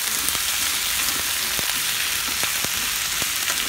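Vegetables and curry leaves sauté steadily in a pan for a tiffin sambar, a continuous close sizzle with a few sharp crackles and pops, no voices.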